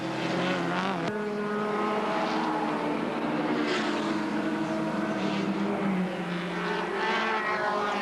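Race cars at the 1980 Hardie-Ferodo 1000 roar past at speed, a loud sustained engine howl with rising and falling pitch as they sweep by, a sharp shift in tone near the start.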